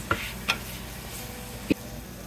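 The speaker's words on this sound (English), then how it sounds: "Just stir fry again for about 20-30 seconds" Sliced onion is stir-fried in a pan under a steady low sizzle, with a few separate light clinks and scrapes of a utensil against the pan.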